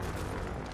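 A frag grenade blast in the game Apex Legends, a short, dense, booming burst that fills the whole 0.8 seconds at a steady, loud level, with no voices over it.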